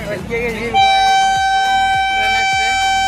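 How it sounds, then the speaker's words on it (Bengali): A train sounds a loud, sustained horn while passing a railway level-crossing gate at Balarampur, the blast starting abruptly after brief voices and holding steady to the end. "ট্রেনটা তোমার আগে আসছে ওই জন্য আমরা যেতে পারছি না।"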